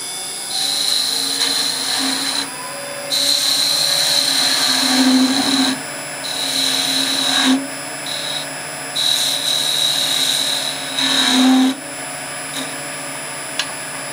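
Woodturning on a lathe with a quarter inch spindle gouge, a steady whirring, high-pitched cutting hiss that rises and drops in passes, with brief pauses between cuts and no talk.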